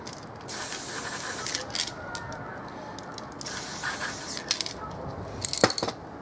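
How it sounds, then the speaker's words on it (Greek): Aerosol spray paint can hissing in close bursts held very near the surface for spray paint art, several sprays of varying length with small mechanical clicks between. "πλησιάζω πάρα πολύ κοντά και ψεκάζω"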